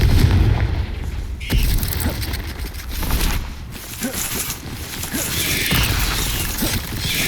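Spell blasts and explosions in the Hogwarts Legacy video game, a rapid series of loud booms, bursts and cracks during an aggressive fight, with several sharp hits dense over a rumbling background.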